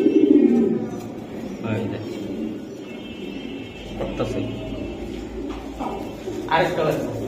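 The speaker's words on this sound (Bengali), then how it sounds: "এগুলো একদম পাল্লা লাইনের কবুতর" Giribaj high-flying pigeons for sale in a pen give low, repeated cooing, loudest at the start and then softer under steady conversation between men nearby.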